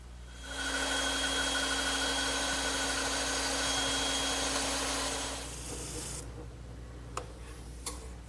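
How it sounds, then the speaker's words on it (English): A steady, loud mechanical whir of a bandsaw cutting wood for several seconds, then winding down into a quieter hum with a couple of faint clicks. "I'll just trace the outline and cut it over on my bandsaw"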